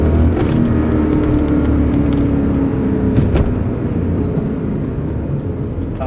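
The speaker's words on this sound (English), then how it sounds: "Just listen to this V8." A BMW M5's V8 engine revs while driving, a loud steady rumbling drone with rising pitch and some wind and road noise, heard from inside the moving car with no talk.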